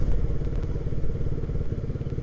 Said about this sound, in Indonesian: Jadi ini kita lari 90 itu motornya masih santai banget.